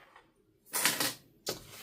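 A sewing machine stitches a zipper gusset at a quarter-inch seam in two short, rapid bursts, a brief pause between them, close and fairly loud against a quiet room.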